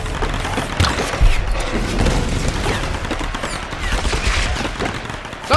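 Enemy gunfire in Tomb Raider (2013) rattles in scattered bursts amid a busy, rumbling game soundscape, fairly loud and continuous with a few sharper impacts.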